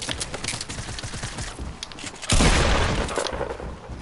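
Rapid gunfire in a Fortnite-style build battle rattles continuously, with a heavier burst of shots and impacts midway, loud and close.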